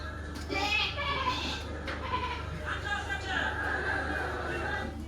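A herd of goats bleats repeatedly under steady classroom chatter and children's voices, the calls rising and falling over a constant low hum.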